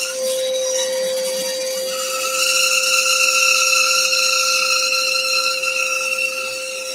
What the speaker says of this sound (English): with a very slight curve on that bandsaw blade, it's going to start to form a little shoulder